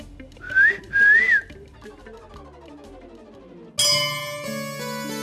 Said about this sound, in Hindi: हमने तो सीटी बजाई थी।